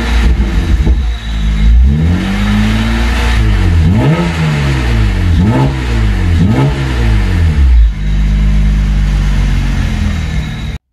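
BMW 135i with the N54 engine running as it warms up after an oil pan gasket replacement, its steady engine note rising and falling in repeated revs, loud and close throughout.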